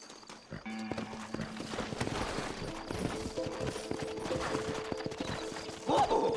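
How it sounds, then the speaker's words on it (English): Horses trot in the Western video game Red Dead Redemption, a brisk steady clip-clop of hooves close by with a whinny near the start, tack rattling and a louder burst of movement at the end. "Horses are over here!"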